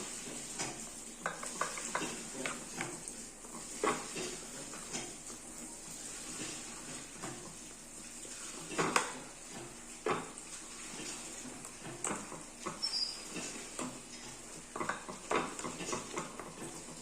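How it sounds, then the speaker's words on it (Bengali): Ingredients stirred with mustard oil into a thick paste for a Bengali rui fish paturi, a spoon scraping and clinking against the bowl in irregular strokes, with a faint background hiss. "এবার সমস্ত উপকরণ খুব সুন্দরভাবে মিলিয়ে মিশিয়ে নিয়ে একটা দারুণ পেস্ট বানিয়ে ফেলব।"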